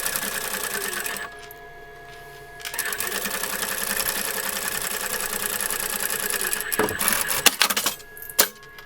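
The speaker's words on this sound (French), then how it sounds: "vous allez coudre la partie supérieure" A sewing machine stitches the top of a rag doll, its close, steady mechanical whir running in bursts with a short pause, then stopping amid a few light clicks and knocks near the end.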